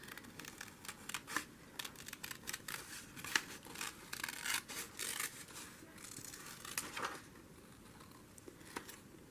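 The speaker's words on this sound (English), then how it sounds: "I'm going to cut out the little mouse though." Scissors snip out a small paper mouse shape, giving a run of close, crisp cuts and soft paper rustles at an uneven pace, with no talking.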